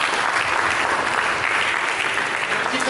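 A church congregation claps together in a full, even burst of applause that holds steady for a few seconds without pause.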